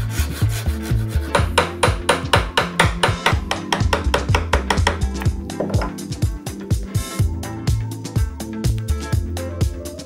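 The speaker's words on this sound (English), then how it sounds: "I'm gonna chisel back to the line" Hand chisel paring wood back to a marked line on a drawer runner for a Shaker table, a steady run of close, sharp rasping strokes and taps repeating in quick rhythm with no talking.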